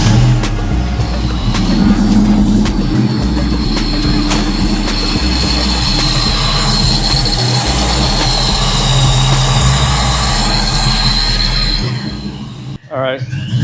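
A cold Foxbody Mustang with no EGR or thermactor system runs rough, its loud lumpy low rumble loping unevenly and close, with a high whine above it and a sudden clunk near the end.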